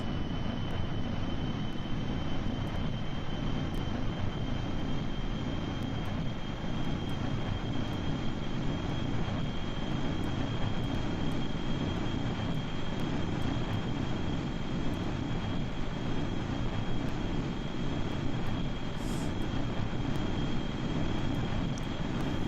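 Spaceplane engines in Kerbal Space Program roar steadily in a dense, continuous rumble as the craft accelerates down the runway, with a thin high whine held throughout and faint ticking clicks over the top.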